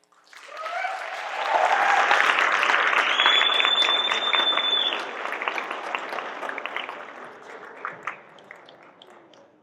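A live audience at a talk breaks into loud sustained applause that swells and then thins out into scattered claps. A few whoops and cheers ring out during it.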